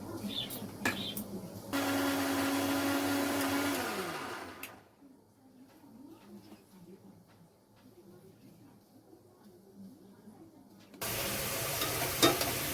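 A mixer grinder whirs through a spice paste of ginger, garlic, onion, coriander, cumin, cardamom, cinnamon, green and dried chillies. One loud burst of a few seconds winds down with a falling motor tone, then a quieter lull, then the grinder starts again near the end.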